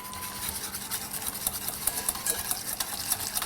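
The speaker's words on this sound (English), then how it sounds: "we're going to pour it into the eggs, whisking the whole time" A whisk scrapes briskly around a bowl as warm milk and sugar are poured into eggs for Guinness ice cream, a rapid continuous scratchy rhythm with faint clicks against the sides and a low steady hum beneath.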